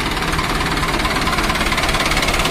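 An Arjun 605 tractor engine runs steadily at close range, a continuous dense rumble with a fast knocking pulse and no voices over it.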